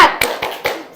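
Rhythmic spirit clap by a class during a teaching session, a few sharp, close hand claps spaced in a quick pattern, loud and alone.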